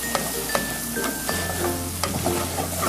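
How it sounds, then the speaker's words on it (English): Flour being stirred into a boiling mixture in a pan, working it into a dough, gives steady scraping and stirring under a low simmering hiss, with several sharp knocks of the spoon against the pan. "we're gonna add the flour and mix until it forms a dough and comes out from the pan"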